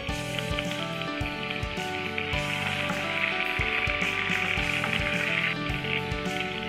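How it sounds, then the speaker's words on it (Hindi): Curry leaves and spices frying in hot oil for sabudana khichdi, a steady bright sizzle and crackle that holds continuously with no talking over it. "कड़ी पत्ता, इन सबको एक बार फ्राई कर लेना है।"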